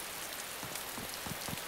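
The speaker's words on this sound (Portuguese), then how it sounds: "Tá chovendo, mano. Quanto mais chove forte, mais laga." Steady rain falls in the survival video game DayZ, a continuous hiss of drops on surfaces with a few louder patters, no one talking over it.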